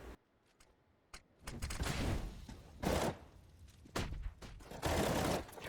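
Rifle spray through smoke in CS:GO crackles in rapid bursts, close and punchy, several volleys separated by short pauses with sharp individual shots between.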